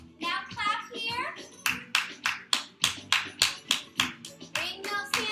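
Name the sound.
hand clapping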